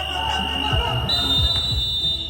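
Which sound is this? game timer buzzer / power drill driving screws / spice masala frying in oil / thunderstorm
game timer buzzer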